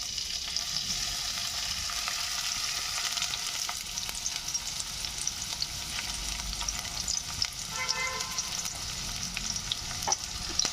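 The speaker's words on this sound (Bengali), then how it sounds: "এই পেঁয়াজ আর লঙ্কাটা একটু ফ্রাই করে নেব" Onion and green chili frying in oil in a kadai, a steady close sizzle with occasional spatula scrapes and stirring clatter, no talking.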